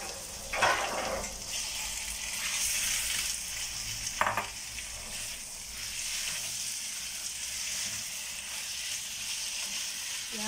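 Meat sizzling steadily in a hot pan with garlic, ginger and mushroom. A couple of sharp clatters from stirring break through the continuous frying hiss, and no one speaks.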